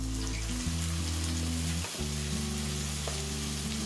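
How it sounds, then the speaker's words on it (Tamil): Steady, loud sizzling of chopped onions and tomatoes sautéing in a hot pan, with a brief stir-like break midway, continuous and close with no voices. "பொடியா நறுக்குன 1 கப் வெங்காயத்தையும் பொடியா நறுக்குன 2 தக்காளியும் சேர்த்து இதை நல்லா வதக்கிக்கலாம்"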